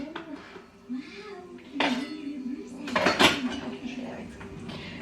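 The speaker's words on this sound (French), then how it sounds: "Je vais chercher un couteau." Metal cutlery and dishes clatter and clink in a kitchen drawer while a knife is sought for a quick ground beef and macaroni supper, with bursts of rummaging between quieter moments and a voice speaking over parts.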